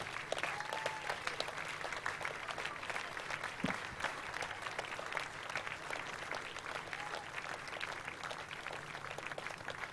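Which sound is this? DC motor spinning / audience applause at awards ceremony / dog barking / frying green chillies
audience applause at awards ceremony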